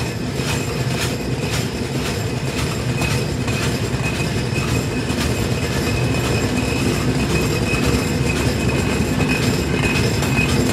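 A freight train stands at Faridpur railway station in Bangladesh, giving a steady, loud rumble of rail noise with faint metallic squeals and clanks throughout, and no talking.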